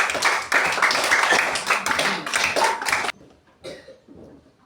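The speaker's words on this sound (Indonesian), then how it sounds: "beri tepuk tangan untuk Napi Kris." A burst of classroom clapping fills the first three seconds, dense and steady, then cuts off, leaving a quiet room with a few faint murmurs.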